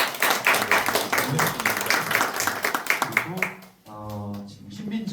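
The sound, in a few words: audience applause at a panel discussion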